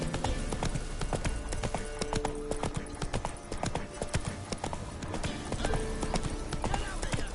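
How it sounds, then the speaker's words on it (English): A horse clip-clops at a steady walking rhythm while being ridden in The Witcher 3, the hooves clear and continuous over a low background bed. "Whoa there, Roach."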